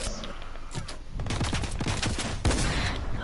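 Rapid gunfire bursts in a shooter video game match, loud close volleys of shots clustered in quick succession with no talk.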